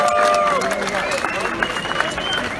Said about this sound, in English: Such an event, I think that deserves a huge round of applause.